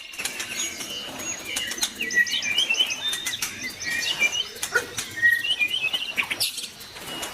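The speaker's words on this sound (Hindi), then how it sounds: "हर परिंदे की चहचहाहट, हर पत्ते की सरसराहट," Birds chirp and tweet in a dense forest, with bright, rapid calls from several birds overlapping, some near and some farther off, and occasional wing flutters, with no voices.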